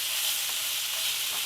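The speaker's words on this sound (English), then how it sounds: "With that quick stir, I got the majority of them flipped." Honey BBQ chicken pieces sizzle and fry in a pan, a constant bright hiss at close range with faint stirring underneath and no talk.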